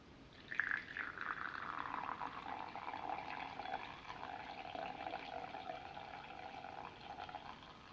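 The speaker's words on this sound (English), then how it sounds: "So I'm just gonna pour some coffee." Coffee poured from a large Ethiopian jebena into a cup, a steady trickling stream whose pitch falls as the cup fills, close and soft, with no talking.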